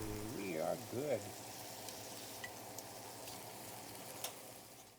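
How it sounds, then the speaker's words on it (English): Homemade andouille sausage cooks in a cast iron pan after water has been added, giving a steady low sizzle and bubbling with a few soft pops. A brief whistling or squeaky tone sounds near the start. "we cook it in a cast iron pan, searing both sides, and then we add some water to the pan and cover it"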